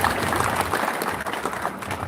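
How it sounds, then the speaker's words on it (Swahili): An audience at a gathering applauds, dense steady clapping filling the whole moment with no pause. "tupigie makofi mazuri"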